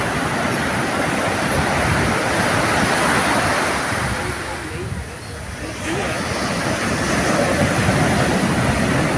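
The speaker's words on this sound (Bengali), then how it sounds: "পুরীর সমুদ্রের ঢেউ একের পর এক একের পর এক অবিশ্রান্তভাবে এসে আছড়ে পড়ছে প্রচণ্ড আওয়াজ" Night surf at Puri beach rolls in wave after wave, a loud continuous roar that dips briefly in the middle before surging back, close and unbroken.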